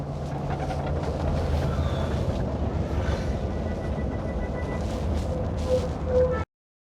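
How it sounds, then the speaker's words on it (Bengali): The engine of a Green Line sleeper bus runs while the bus is driving. It gives a steady, smooth low rumble with faint rattles throughout, then cuts off abruptly at the end. "আর ইঞ্জিনের সাউন্ডও বেশ স্মুথ"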